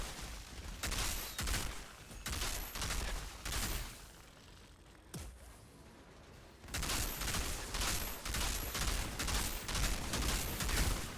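Rapid, sustained bursts of automatic weapon fire from the video game Outriders, played with a Technomancer firepower build, come in long rattling volleys, broken by a short quieter lull before the shooting resumes.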